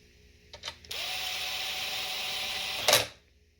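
A power tool runs transmission bolts in on a 6L80 transmission, giving one steady whirring burst of about two seconds, preceded by brief clicks and ending in a louder final grind, with no speech.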